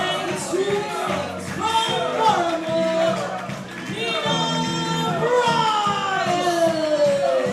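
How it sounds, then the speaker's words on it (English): A wrestling crowd cheers and shouts for a fan-favorite wrestler's entrance at an Attack! Pro Wrestling show, a loud, sustained mass of voices with rising calls and chanting across the whole stretch, with a commentator talking over it. "The crowd are letting them know that they love him."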